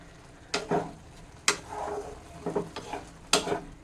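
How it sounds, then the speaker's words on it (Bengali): Lentil dal cooking with banana stem, stirred in a pot after the lid is lifted, heard as a few separate scraping strokes and soft clanks of a spoon against the pot, close and fairly quiet. "ঢাকনাটা একটু তুলে আমি ডালটাকে একটু নেড়ে দিচ্ছি"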